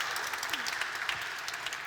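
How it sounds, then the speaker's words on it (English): Audience at an entrepreneurs' event applauding, brief continuous dense clapping with faint voices beneath. "So please, again, big round of applause for Rachel."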